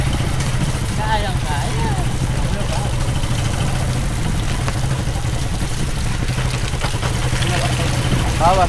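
A motorcycle engine idles steadily during a service job, a constant low throbbing running throughout while people talk nearby.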